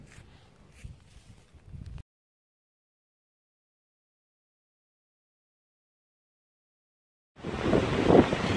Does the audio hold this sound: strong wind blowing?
yes